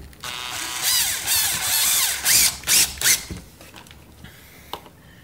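A power tool whirs in several short bursts while driving screws into a dimmer switch, with brief pulses near the end before it falls quiet.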